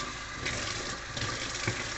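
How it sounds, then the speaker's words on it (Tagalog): Kitchen tap water running steadily into a sink while squash is washed before cutting, a constant close gush with small splashes and knocks, no talk. "Hugasan natin yung ating kalabasa bago putulin."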